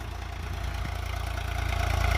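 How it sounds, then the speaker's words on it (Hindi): A Swaraj 744 FE tractor, a 50 HP model with a square-bore engine, runs steadily nearby with a low, throbbing diesel rumble that slowly grows louder and more pulsing, heard alone without speech. "अभी वो बिल्कुल फिट चल रहा है ट्रैक्टर इसमें।"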